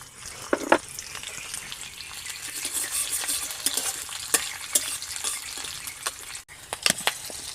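Panch phoron and green chillies go into hot frying oil, crackling and sizzling with sharp pops and spatters over a steady fry, alongside occasional stirring clatter and no talk.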